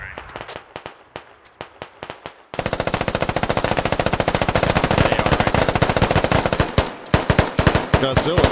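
Automatic gunfire in the military shooter game Squad: sharp separate shots at first, then a long, loud, unbroken burst of rapid fire, ending in scattered heavy shots up close.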